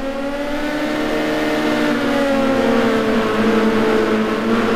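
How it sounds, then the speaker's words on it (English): A race car in the GTR2 racing game on the Dubai Club track revs hard through second gear, its loud, steady engine drone rising and falling in pitch continuously with no talk. "taking great chunks of curve and hammering the car through second gear"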